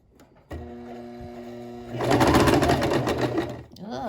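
Simple domestic sewing machine stitching across fabric with a wide stitch: a motor hum starts, then a louder, fast rhythmic needle chatter runs for about two seconds before stopping, close and alone.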